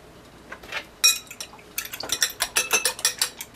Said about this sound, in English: Just giving this a quick mix.